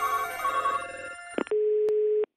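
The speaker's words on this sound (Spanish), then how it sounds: "Vamos a ver si cogemos el teléfono antes." A telephone rings with a tonal electronic pattern, then breaks into clicks and settles into a single steady tone before stopping abruptly, heard alone without any talk.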